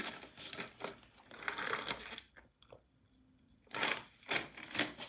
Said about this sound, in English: I'm gonna shuffle that up a little more.